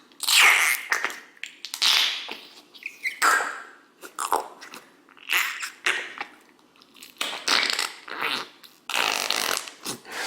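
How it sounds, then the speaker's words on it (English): Fingers pushed into slime in a jar, squelching out a series of wet, fart-like squelches and squeaks in irregular bursts separated by short pauses, close and fairly loud, with no talking. "when you push your fingers in there, it's gonna make really cool fart sounds."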